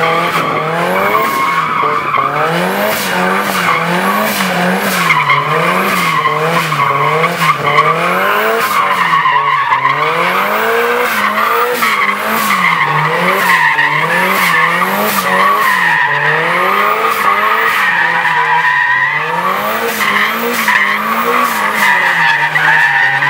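A car slides and skids in second gear, tyres squealing continuously for over twenty seconds while the engine wails up and down in repeated revving swells, loud and close.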